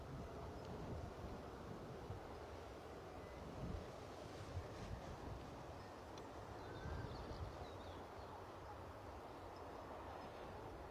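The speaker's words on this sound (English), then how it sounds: "The wind, if you can hear it, is sort of hitting me directly into the back now" Wind blowing across an open airport runway, a constant broadband rush and buffeting against the microphone, steady and fairly close, with no voices.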